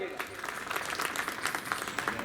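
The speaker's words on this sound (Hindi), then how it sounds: "जोरदार तालियों से स्वागत कीजिएगा" Brief applause from a crowd at a CPWD New Year gathering welcoming a guest, with scattered clapping running under a speaking voice.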